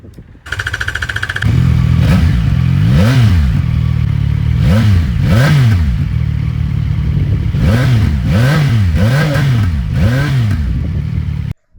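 A CFMoto 675NK motorcycle idles steadily, then revs repeatedly in sharp rising-and-falling bursts, loud and close, with a brief pause between groups of throttle blips and no talking.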